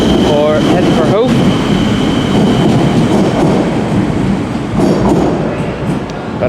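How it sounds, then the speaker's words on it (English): A diesel class unit train departs a station, its engine drone and rail rumble steady and loud throughout, with a brief squeal and clatter near the start. "class unit is departing Pierce at the minute, or heading for Hove."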